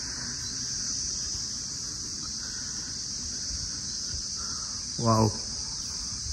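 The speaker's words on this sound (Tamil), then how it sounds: "பூச்சிகளின் ரீங்காரம் நல்லா இருக்கு" Insects buzz in a constant high drone on a hill temple's stone stairway, loud and unbroken throughout, with a brief voice exclaiming near the end.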